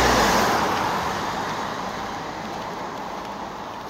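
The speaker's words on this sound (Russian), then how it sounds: "Да, машины гоняют, пешеходных переходов не особо много." Cars rush past on a street in Yalta, Crimea, a broad roadway whoosh that is loudest at the start and fades as a vehicle moves away, leaving a steady traffic rumble.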